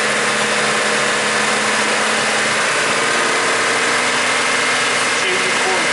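A Chevy Trailblazer engine with a P060E fault idles close by with a steady low hum and a faint whir from the cooling fan, while people talk over it.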